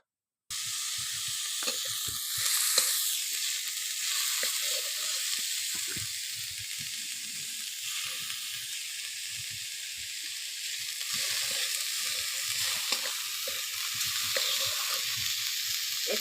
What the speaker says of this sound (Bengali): এখানে এটা মূলোর শাক ভাজা হচ্ছে।